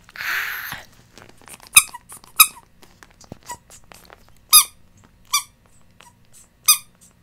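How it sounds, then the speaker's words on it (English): Cheap dollar-store light-up toys give a series of sharp, bright squeaks, about six distinct chirps spaced irregularly over several seconds, close and clear against a quiet background, with a soft rustle at the start. "they squeak."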